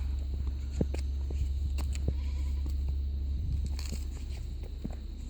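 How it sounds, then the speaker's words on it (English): Goats and sheep on a rocky hilltop in Somaliland give faint, scattered bleats over a low steady wind rumble and a few small clicks and knocks. "There's the goats and the sheep."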